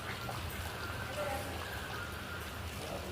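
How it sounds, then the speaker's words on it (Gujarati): Light rain falls in Kutch, Gujarat, as a soft, steady hiss and patter lasting throughout, with faint voices murmuring in the background. "થોડો વરસાદ ને બધું ચાલુ જ છે કચ્છમાં"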